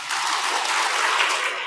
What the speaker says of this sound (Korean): 들어온 지 얼마 안 된 분들 박수 한번 쳐주세요